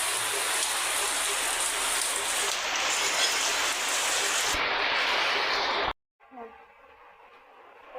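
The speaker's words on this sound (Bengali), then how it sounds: "বৃষ্টি পড়ছে আর ওয়েদারটা পুরা খারাপ" Rain falling steadily in bad weather, a dense loud hiss of drops on surfaces that cuts off abruptly near the end, leaving a quieter room with faint noises.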